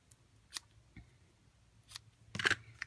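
Scissors trimming ribbon for a Christmas tag, a few sharp, crisp snips spaced across a couple of seconds, close and clear against a quiet background.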